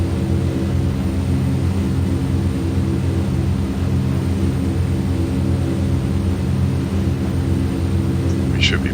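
Twin Otter turboprop engines drone at a steady, loud level after being throttled back to cruise over Iceland, a constant low rumble with a faint high whine over it.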